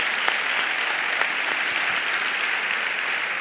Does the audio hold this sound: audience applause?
yes